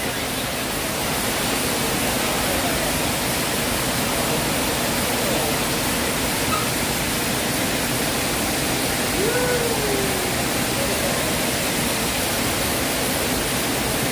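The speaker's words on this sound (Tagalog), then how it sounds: "Let's check out the falls." A waterfall at Villa Escudero in the Philippines roars as a steady, dense wash of rushing water, constant and fairly loud throughout with no pauses.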